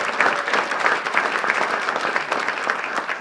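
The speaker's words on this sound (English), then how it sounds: "Can we clap Elaine, please?" An audience at a community awards ceremony in Nottingham claps warmly for a winner, a brisk and fairly close applause that continues throughout with no break.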